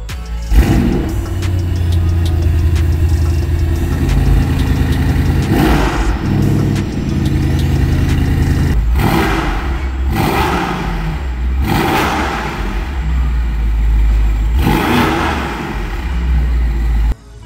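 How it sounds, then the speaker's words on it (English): A Lamborghini Performante engine starts up cold and settles into a steady, loud idle, then several sharp revs rise and fall in turn. "start it up, and we'll get a cold start, and then we'll also do a few revs"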